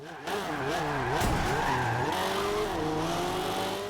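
A four-wheel-drive, 433-horsepower car in Forza Horizon 2 roars and revs hard with squealing tyres skidding through a turn, loud and continuous, engine pitch rising and falling.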